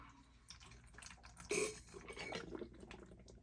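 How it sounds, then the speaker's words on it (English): Water sloshes and rinses paydirt around a gold pan, with soft drips and splashes and one brief louder slosh in the middle, close and fairly quiet with no talking. "Let me add some water in this to get the rest of that gold out of there."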